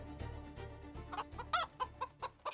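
Chickens cluck in a farmyard, a series of short, close, fairly quiet clucks in an uneven rhythm over low background noise.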